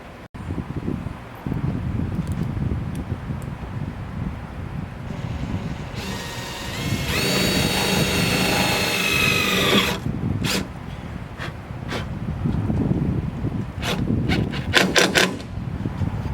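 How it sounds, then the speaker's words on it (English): Power drill driving a stainless steel self-tapping screw with a washer into a Jeep Wrangler YJ tailgate, a loud whirring burst lasting a few seconds amid outdoor wind and rustling, followed by faint clicks. "I'm going to go ahead and put in one of my self-tapping screws here with a nice washer, all stainless steel"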